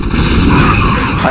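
Siege tanks firing in StarCraft, a single heavy, loud, booming blast with a dense rumbling roar sustained throughout, close and overwhelming, with no talk.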